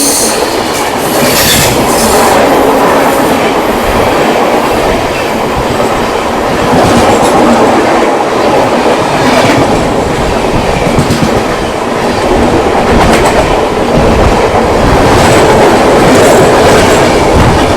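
A fast passenger train on the Delhi Hazrat Nizamuddin to Secunderabad route runs at speed, loud and close, with continuous rumbling roar and rhythmic clickety-clack of wheels over rail joints throughout, no talk.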